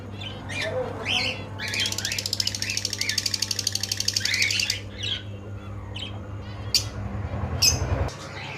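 Lovebirds in a pet bird shop give off a dense burst of harsh, rapid squawking chatter close by, over a steady low hum, with scattered single chirps before and after.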